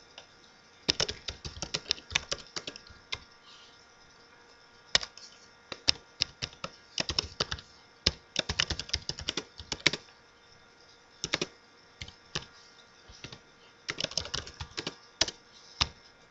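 Typing on a computer keyboard comes in irregular bursts of sharp, close key clicks, separated by short pauses, over a quiet steady background hum, with no voices.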